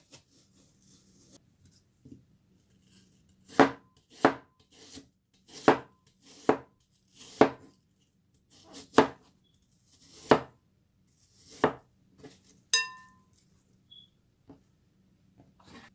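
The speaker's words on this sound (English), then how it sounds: "Now what you want to do is cut these up into slices." A knife slicing apples for apple pie on a cutting board, about a dozen crisp separate chops in an uneven rhythm, close and clear against a quiet background.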